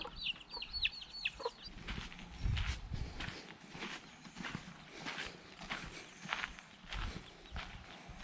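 Chickens of several breeds, including Leghorns, cluck and chirp nearby on a farm amid shuffling footsteps and scratching, with a few high peeps early on.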